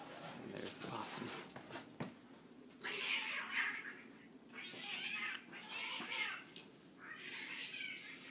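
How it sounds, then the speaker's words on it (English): A cat caterwauls close by in a yard during a night encounter with a possum, letting out several long drawn yowls in succession with short pauses between them. "Oh, that's a cat."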